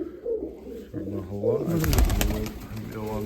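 Mykolaiv breed pigeons coo in low, rolling calls close by while people talk over and around them.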